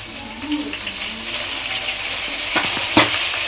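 Curry leaves crackle and sizzle in hot oil for a mutton masala gravy, a steady close frying hiss with a couple of sharper spits near the end, no talking over it.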